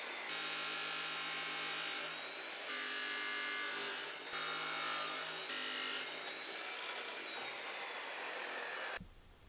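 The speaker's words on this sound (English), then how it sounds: "So we'll cut our little tabs." Metal tabs being cut for a 2019 Sierra Denali truck rebuild, a loud, steady, harsh grinding-saw whine running nearly continuously with slight dips, then stopping abruptly near the end.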